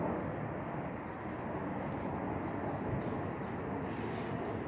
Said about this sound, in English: Airplane and noise.